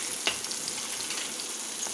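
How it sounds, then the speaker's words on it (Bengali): Chopped onions fry in hot oil with green chilies, giving a steady, close sizzle with faint crackles and a few stirring clicks throughout, no voices. "পেঁয়াজটাকে লাল লাল করে ভেজে নেব।"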